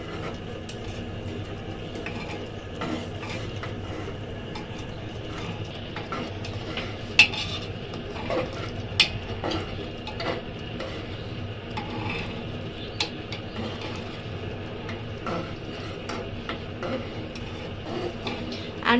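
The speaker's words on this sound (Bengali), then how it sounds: "তারপরে আমরা এখানে ভালো করে নাড়াচাড়া দিতে থাকবো।" A spoon stirs a chatpati masala mixture for street-food-style chotpoti, giving a steady scraping rustle with scattered light clinks against the pot, continuous and moderately close with no talking.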